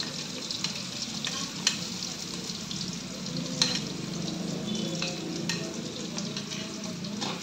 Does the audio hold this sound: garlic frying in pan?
yes